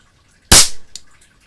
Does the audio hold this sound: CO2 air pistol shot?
yes